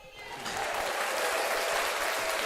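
Steady clapping applause from spectators at a volleyball match between the Panthers and their opponents, dense and continuous, building slightly in the first half second and holding even throughout.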